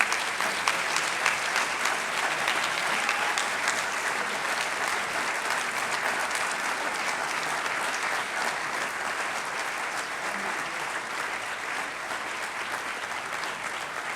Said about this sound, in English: Please give this class of students a huge round of applause.